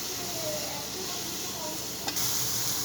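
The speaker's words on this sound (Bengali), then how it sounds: "পেঁয়াজটা একটু ভেজে নিব লাল লাল করে।" Chopped onion frying in a hot pan of oil for a Bengali hotel-style koi fish curry: a steady, dense sizzle with light stirring scrapes and one brief sharp clatter near the end.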